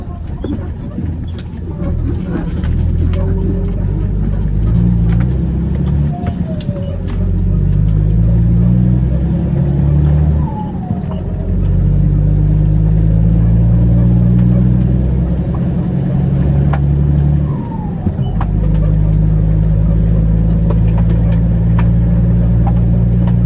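A new car's engine hums and rises through the gears during a ride, a close, steady cabin drone with repeated climbs in pitch and brief drops between shifts, with someone talking over it.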